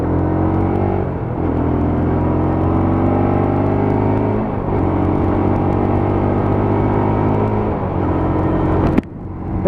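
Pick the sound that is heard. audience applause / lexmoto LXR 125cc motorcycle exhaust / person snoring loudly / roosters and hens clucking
lexmoto LXR 125cc motorcycle exhaust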